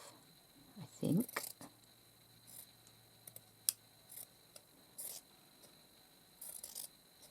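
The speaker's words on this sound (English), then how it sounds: "These are not fabric scissors, these are my paper scissors." Paper scissors snip through material during a craft session making base lace, a few short crisp cuts and scattered ticks and rustles, faint and close, separated by quiet gaps.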